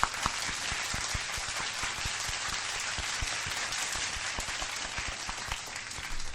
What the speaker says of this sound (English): round of applause to the donators tonight